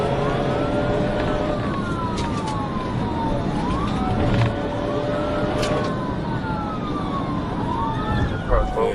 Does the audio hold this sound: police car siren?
yes